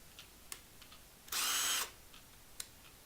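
Ryobi ONE+ 18V cordless drill spinning up in a quiet room, a single bright whir of about half a second, with faint clicks before and after.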